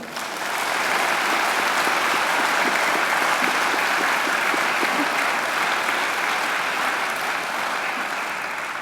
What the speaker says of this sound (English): I'm sure you'd like to give them a great round of applause as well.